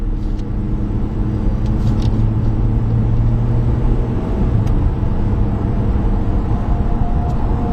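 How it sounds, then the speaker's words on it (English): A 2011 Ford Explorer Limited cruising on a smoother town road, with a steady, fairly loud cabin rumble of engine and tyre noise running unbroken throughout. "now that we're on slightly smoother roads, the Explorer is quite civilized to just simply cruise around town."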